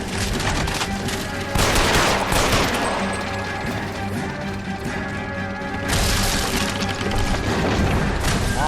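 Gunfire from a shootout in the L.A. Noire video game: dense, continuous bursts of shots and booms filling the whole stretch, loud and near, with heavier flurries at the start and again toward the end.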